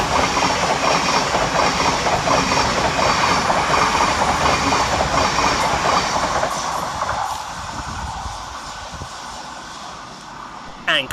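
A Thameslink Class 700 electric train, unit 700-129 running from Horsham to London Bridge, passes through Anerley station with a loud close rush and rattle of wheels that fades away in the last few seconds, with a faint voice beneath.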